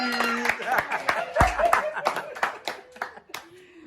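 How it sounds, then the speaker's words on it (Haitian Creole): An audience claps in bursts of sharp, uneven hand strikes, fairly close, mixed with voices and a bit of laughter. "On t'applaudit pour Figi Business."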